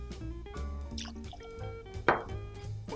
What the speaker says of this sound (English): we'll hit it with a good 2 ounces of our blended Scotch